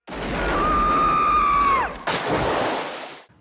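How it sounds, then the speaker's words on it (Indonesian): A thin whine slides downward, then a sudden, loud shotgun blast erupts at close range, its rough, noisy roar lingering about a second before cutting off. "tembakan dari jarak yang sangat dekat"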